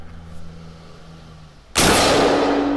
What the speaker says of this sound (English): I'm gonna again shoot for the center and kind of see where we hit.